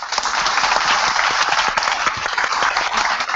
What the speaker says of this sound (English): Give me a little round of applause.